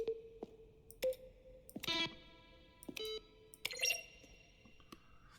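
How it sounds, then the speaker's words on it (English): Assorted button presses in The Stanley Parable, sharp isolated clicks and electronic beeps with a few layered, ringing tones, scattered irregularly over quiet background. "A selection of the sounds used throughout the game with buttons are pressed."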